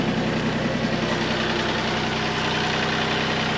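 A tractor engine idles close by with a steady, even rumble that holds at one level throughout, with no voices.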